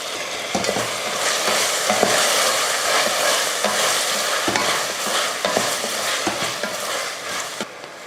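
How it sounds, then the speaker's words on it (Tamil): About 200 grams of chopped carrot, beans and potato sauté in a pan with a loud, continuous sizzle, broken by repeated close scrapes and taps of a spoon stirring. "இப்போ காய் வந்து ஒரு 2 நிமிஷத்துக்கு வதங்கட்டும்"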